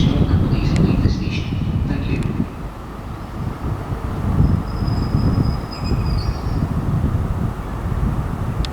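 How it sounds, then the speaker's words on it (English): A ScotRail HST express from Inverness to Edinburgh pulls into Perth station, heard as a loud, steady low rumble of engines and wheels with wind buffeting the microphone and some brief higher squeals near the start. "approaching now is the 1507 ScotRail service from Inverness to Edinburgh"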